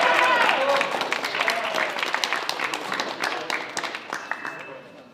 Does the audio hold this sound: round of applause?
yes